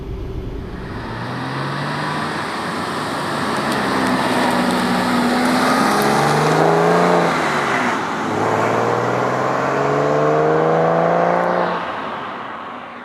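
A Porsche 911 engine runs steadily as the car drives along, rising and falling with gear changes and acceleration, a continuous moderately loud road drone with no talking.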